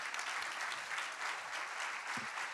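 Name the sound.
audience applause for the guests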